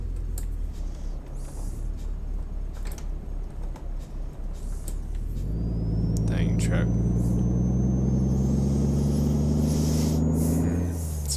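Road traffic in American Truck Simulator rumbles low at first, then a heavy truck engine swells in and drones loudly with rising pitch as it accelerates, with faint swishes of passing vehicles.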